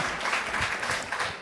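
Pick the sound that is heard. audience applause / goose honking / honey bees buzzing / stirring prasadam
audience applause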